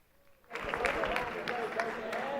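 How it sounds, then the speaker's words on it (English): An audience breaks into sustained applause for two men's Division II basketball teams at a championship awards ceremony, starting after a brief quiet moment and continuing as a steady, dense clatter of clapping. "Let's have a big round of applause for both these teams today competing."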